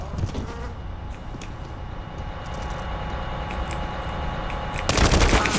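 Rapid automatic rifle fire in CS:GO crackles through a steady game background hum, building to a loud dense burst near the end.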